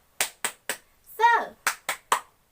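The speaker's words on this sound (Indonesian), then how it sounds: "Tepuk semangat." A classroom spirit clap (tepuk semangat): three sharp, evenly spaced claps, then a short shouted voice, then three more crisp claps, all close and loud against silence.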